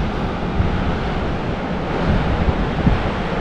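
Surf rolling onto Qiding Beach in Zhunan, Taiwan, a steady broadband wash of breaking waves with heavy wind buffeting the microphone, continuous and close with no voices.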